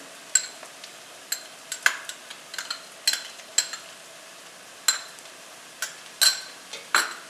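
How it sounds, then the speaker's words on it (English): Ginger and garlic paste frying in a pan for dal makhani, a light sizzle under intermittent sharp clinks and scrapes of a spoon against the pan, close with no talk. "So this is ginger and garlic paste. I'm going to put a few good generous spoonfuls in here."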